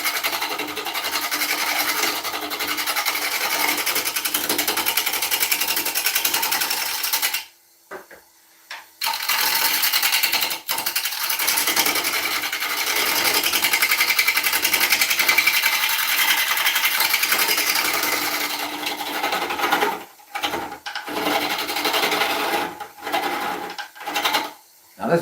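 A gouge cutting dense, fairly dry hardwood spinning on a wood lathe, riding the bevel, produces a steady close hissing, rasping scrape, broken by a few short pauses where the tool lifts off.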